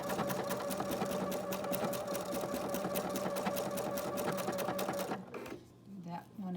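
A PFAFF creative icon sewing machine stitches ribbon stitches in a fast, steady mechanical rhythm for about five seconds, then stops, leaving quiet room noise.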